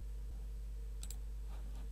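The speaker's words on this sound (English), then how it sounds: "So I'll right click on my style and click on copy." A computer mouse gives a quick, faint double click over a low electrical hum, followed by a couple of softer ticks in an otherwise quiet room.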